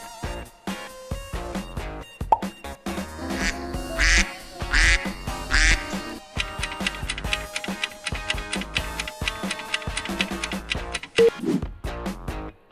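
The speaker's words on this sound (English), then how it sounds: "Duck." A duck quacks several times in short, nasal bursts over steady rhythmic music with a ticking beat, close and fairly loud, without talk.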